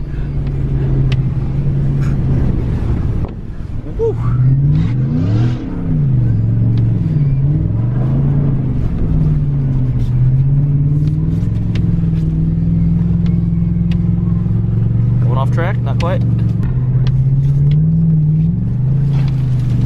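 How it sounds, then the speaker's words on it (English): A car engine on a rally lap, with a steady low drone that rises and falls as the revs change, heard close and continuous without talk. "So this is a rally lap. We're just going back and forth."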